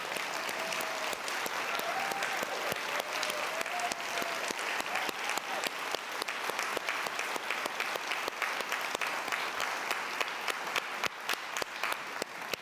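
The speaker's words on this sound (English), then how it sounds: "just to stand up and let me give you a round of applause." An audience at the Elizabeth Dole Foundation's annual national convening gives a sustained round of applause, dense steady clapping that fills the room for the whole stretch with no talk over it.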